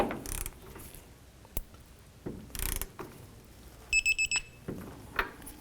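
Ratcheting clicks from a torque wrench tightening the lower sway bar end link bolt on a 2002-07 Jeep Liberty, in short bursts between quiet gaps, with a quick run of sharp metallic clicks near the end.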